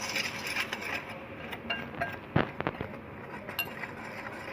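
A potato mixture for KFC-style rolls is stirred in a bowl, giving soft scraping and a few sharp clinks of a utensil against the bowl, close and moderately quiet, with no talk.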